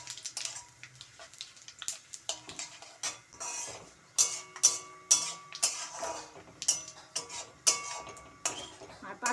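Bay leaves and panch phoron spices frying in a pan, heard as soft scattered sizzling with repeated light metallic clinks and scrapes of a spoon against the pan.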